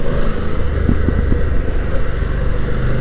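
A 2024 BMW F900 GS motorcycle engine rumbles loudly while riding, with a few quick-shifter gear changes marked by brief clicks and dips in the steady engine drone.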